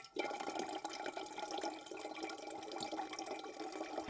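A household tap runs at a slow trickle during a wildfire power blackout, a steady hissing splash of water into a basin that continues evenly for several seconds at close range.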